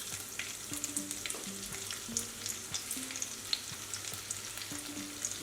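Mustard seeds and finely chopped ginger fry in hot oil for tomato chutney, a close, continuous sizzle broken by quick pops and stirring scrapes.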